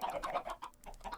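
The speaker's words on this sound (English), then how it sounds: "those chickens could still get out here, if I am not careful" Chickens cluck softly in Minecraft, a quiet run of short choppy calls following one another rapidly.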